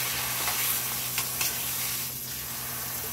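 Steak sizzles loudly in a hot pan, a continuous close frying hiss with a few brief crackles, the sizzle easing slightly toward the end.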